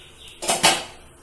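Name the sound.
idli pot lid lifted off a pan to check a dosa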